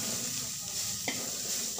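Cumin and turmeric fry softly in a pan for coriander chutney, giving a faint steady sizzle with one brief scrape of stirring partway through.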